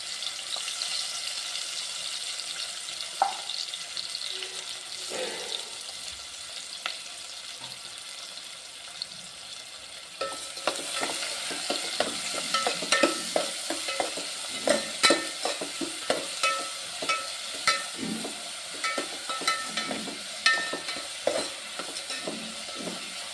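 Onions fry in a pan for a jackfruit fry dish, a gentle hiss at first that grows into a busier crackling sizzle as they are stirred, with rhythmic scraping strokes against the pan and no voices.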